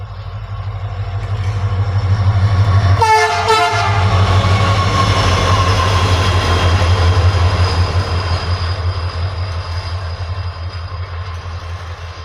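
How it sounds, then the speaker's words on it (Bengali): A WDG-4D diesel locomotive passes close, its deep engine drone holding steady while a loud horn blast rings out early, then the rumble slowly fades. "একটা WDG-4D একটা লোকোমোটিভ গেল"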